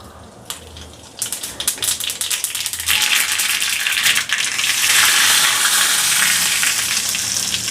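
Spices hit hot oil for a sambar tempering: after a short quiet start, a loud crackling sizzle bursts out and swells into a sustained, close hiss.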